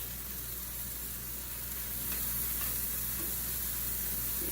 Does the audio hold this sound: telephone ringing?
no